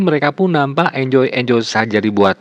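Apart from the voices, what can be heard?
No everyday noise stands out behind the speech.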